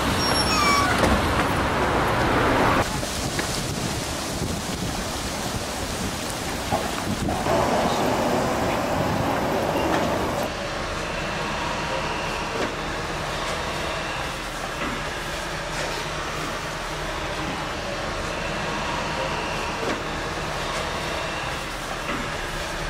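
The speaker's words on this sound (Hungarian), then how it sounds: "Hoppá, villamos!" A tram rolls past on a city street, a steady loud rumble with a rising whoosh in the first seconds that settles into a continuous rail and wheel noise, with no talk.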